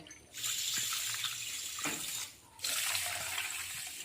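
Tap water runs into a bowl with a steady, close splashing stream. The flow briefly stops, then starts again, for water to be added to sugar in making syrup.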